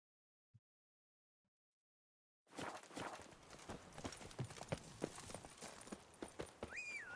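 Roach, the horse in the video game Witcher 3, clip-clopping with hooves striking in a quick walking rhythm that starts suddenly after a near-silent stretch, fairly close and steady, with a short whinny near the end.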